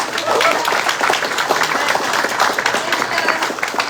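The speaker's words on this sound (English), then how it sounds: "let's just give a round of applause" Applause from a room of attendees at a real estate networking talk, dense and steady clapping throughout, with some voices mixed in.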